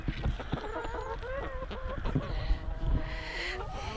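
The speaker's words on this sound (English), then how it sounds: "We've got 10 good chickens and we've got one naughty chicken." Hens on a winter smallholding cluck and call close by in a busy overlapping chorus of short repeated notes, with some scuffling and no talking.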